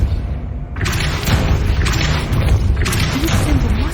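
A Depulso spell is cast in Hogwarts Legacy, producing a deep thudding blast followed by a few repeated forceful whooshing bursts, loud and close over a rumbling low background.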